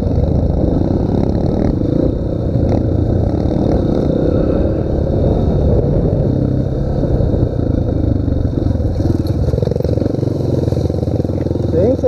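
Pro Tork TR100F mini motorcycle riding a mountain dirt trail: a loud, continuous buzzing engine that surges and revs as it accelerates, staying close throughout.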